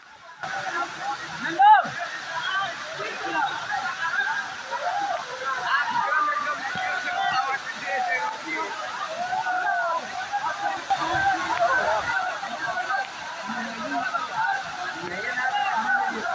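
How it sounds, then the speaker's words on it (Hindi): A waterfall at the Gupta Dham cave pours down in a continuous rushing, sloshing roar that holds steady under a voice and faint crowd murmur. "चारों तरफ से पानी हमेशा गिरते रहता है, जिससे बड़े बड़े झरनों का निर्माण होता है।"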